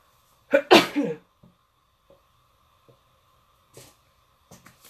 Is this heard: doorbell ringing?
no